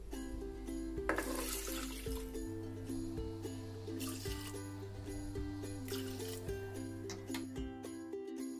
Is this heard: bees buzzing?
no